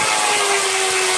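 A cordless earthquake impact tool runs continuously while backing bolts out of an Audi A6 4.2 fender, a loud close high-pitched whine with a steady tone and no pauses.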